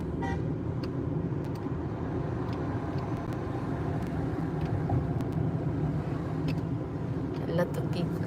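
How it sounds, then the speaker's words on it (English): Cars stream past steadily in Ann Arbor rush-hour traffic, a continuous close road rumble with a few brief horn toots and clicks, while people talk nearby. "See, cars are always go around."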